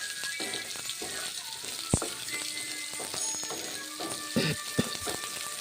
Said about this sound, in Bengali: পেঁপে আর মুগ ডাল এখন ভেজে নিচ্ছি